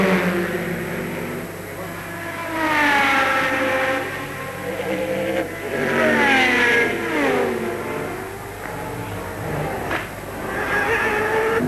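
A Sauber Mercedes race car at the 1991 Le Mans 24 Hours passes with a rising and falling engine whine, swelling in waves as it goes by, with a commentator's voice in the background.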